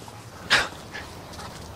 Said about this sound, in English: He's always crazy. Crazy dog.